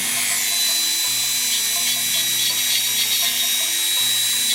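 A Dremel rotary tool runs steadily at high speed, removing rust from a small part of a Dutch Zaandam clock, a continuous close whine with faint shifts in pitch as it bites the metal.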